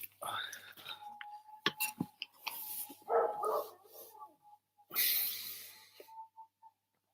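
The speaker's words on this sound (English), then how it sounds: "My dog is barking." A dog barks a few times on a farm near beehives in Poltava, Ukraine, moderately distant, with quiet voices and a faint steady tone in the background.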